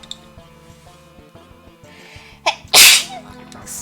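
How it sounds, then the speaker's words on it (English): A single loud, close sneeze bursts out near the end, after a quiet stretch of soft background clicks and murmur during a live game night. "Sorry, I need to sneeze."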